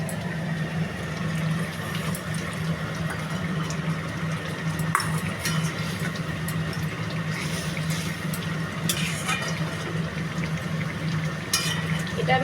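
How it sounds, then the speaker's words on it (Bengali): Spinach gravy for palak paneer bubbling in a pan, a steady close low simmering hiss with faint scattered pops and clicks throughout, no talk. "এটা ফুটে এসছে, দেখো পালং শাকের গ্রেভিটা কষানো হয়ে গেছে"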